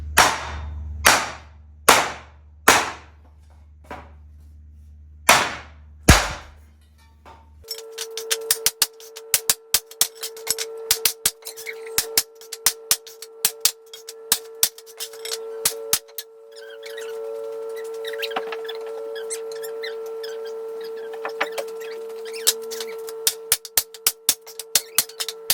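A hammer strikes metal to bend it to a windshield curve: about seven loud, sharp clanks at first, then a long run of quicker, lighter tapping over a steady hum.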